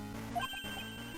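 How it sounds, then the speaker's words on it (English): A cell phone rings in Ace Attorney Investigations 2, a brief electronic ringtone chirp set against a steady game music bed, fairly faint. "That sound is... a cell phone."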